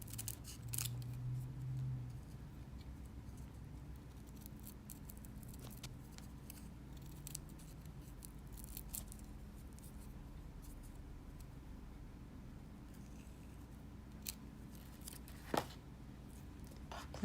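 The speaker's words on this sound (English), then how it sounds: "So cut within the lines of your tracing so that it comes out a little smaller." Sharp scissors snip through felt along a traced outline for a goldwork embroidery piece, producing quiet, close, crisp cuts at an uneven pace over a faint background hiss.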